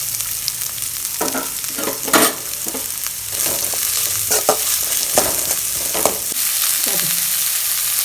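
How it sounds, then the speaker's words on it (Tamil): Chopped onions fry in oil in a kadai for a chicken curry, a bright steady sizzle with repeated spoon scrapes and stirring clatter, close-up and prominent, without talk. "அதே கடாயில் கொஞ்சம் எண்ணெய் ஊற்றிக்கலாம்ப்பா. வெங்காயம் கட் பண்ணி வச்சுருக்கேன். வெங்காயம் போட்டுக்கலாம்."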